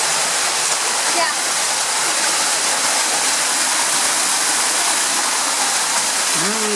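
Waterfall at the Cascada de Colores in the Caldera de Taburiente, a steady, loud broadband rush of falling water that fills the whole stretch without pause, with a brief faint voice near the end.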